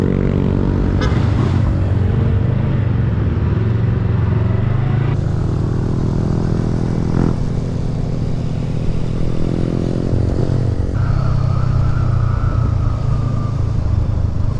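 A motorcycle rides along a road in Aurora province, its engine droning steadily and loudly close by with wind rush and occasional shifts in pitch, no talking.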